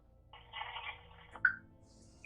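Phone call on speaker: a short ringback tone purrs once, followed by a click and a faint automated tone as it goes to voicemail, quiet and close.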